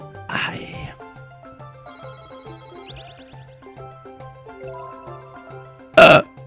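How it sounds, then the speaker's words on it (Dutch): A burp during a Dutch game session, a short loud belch near the end over a looping electronic game tune with ringtone-like beeps. "Ik liet een boer."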